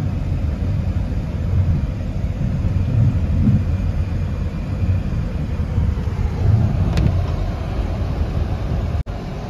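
Floodwater rushes hard through the Los Nogales arroyo near its drainage grates, a steady, loud broadband roar that holds unbroken from start to finish with no voices.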